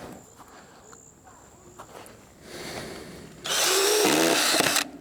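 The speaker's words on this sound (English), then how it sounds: "We got some wood screws here, and we're going to screw these down." A power drill drives wood screws into a wooden rabbit hutch outdoors, a quiet whir at first, then a loud sustained whine near the end, with faint insects in the background.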